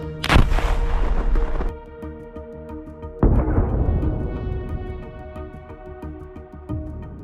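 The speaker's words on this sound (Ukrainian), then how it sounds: "Постріл!" Two loud booming artillery shots, the first near the start and the second about three seconds later, each followed by a long rumbling echo.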